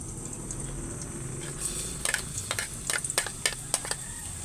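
Garlic frying in a pan for a pakbet dish, a quiet sizzle that turns into a series of sharp crackling pops and stirring scrapes in the second half, with no talking.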